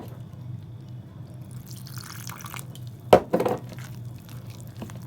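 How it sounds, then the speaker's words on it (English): Cold water is poured into flour mix for Jamaican saltfish fritters, a brief splashing pour partway through, fairly close, over a low steady background hum. "So here I am adding my water."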